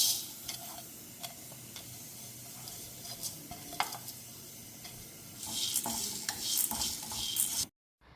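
Garlic, ginger, green chillies and tomato for a Kerala duck curry heat in a pan with a soft, close sizzle and repeated stirring scrapes, then the sound cuts to silence.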